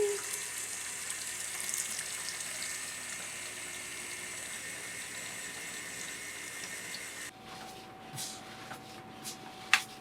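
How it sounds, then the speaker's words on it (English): A pump drains dirty water from a boat's bilges, a steady rushing flow of water that runs continuously, then drops to a quieter trickle with a faint hum and a few small knocks near the end. "now we've got to pump out the dirty water"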